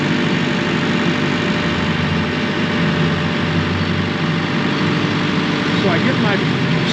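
A Kioti RX7320 tractor engine runs at a steady, loud drone while reversing with the power shuttle, a continuous mechanical hum throughout.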